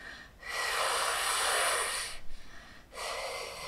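Two long, deliberate breaths out to calm down from stress, close and alone, the first a steady exhale of about two seconds, then a short broken breath and a second exhale starting just before the end.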